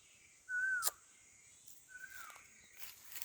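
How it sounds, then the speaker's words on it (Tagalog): Birds give a few clear, high whistled calls, one loud sweeping note followed by fainter ones, over a quiet outdoor background. "Ang ingay ng ibon."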